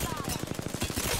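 Rapid automatic gunfire in the battle-royale shooter Apex Legends, a steady rattling burst of evenly spaced shots, loud and close, with game sounds layered over it.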